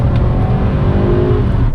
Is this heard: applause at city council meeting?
no